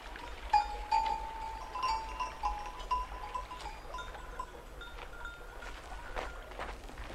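Sheep and goats gather at drinking water in a rural Iranian setting, giving faint, scattered bleats and calls at a distance, with clinking, bell-like tones and soft footsteps over a low outdoor hum.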